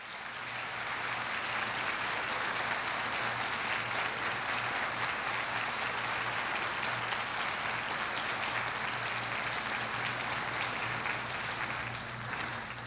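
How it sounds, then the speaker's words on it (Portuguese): A large church congregation at a novena and feast day of Our Lady gives a long, loud round of applause, a steady dense roar of clapping held for over twelve seconds over a faint low hum. "Então vamos acolhê-los com uma grande salva de palmas."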